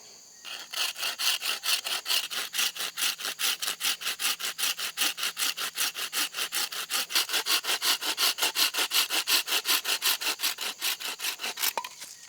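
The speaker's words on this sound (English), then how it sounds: "Now I can slide this to the length that I want to cut it and then grab my saw" A hand saw cuts wood clamped on a bushcraft sawhorse. It gives a steady, rhythmic rasp of quick back-and-forth strokes, close and loud, that keeps going for about twelve seconds with no talk over it.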